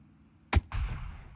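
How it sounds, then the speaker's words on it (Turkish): A single sharp M24 sniper rifle shot in PUBG, fairly distant, followed by a lingering rumbling echo tail, with no talk. "M24 ile vurdu lan adam"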